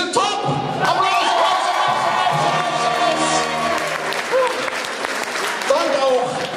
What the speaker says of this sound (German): Aber die Funkmädels, die sind top! Applaus!